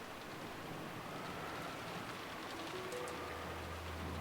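Rain sound effect in the Umineko visual novel, a steady dense hiss of rainfall on surfaces, continuous and moderately loud, with a low rumble entering near the end.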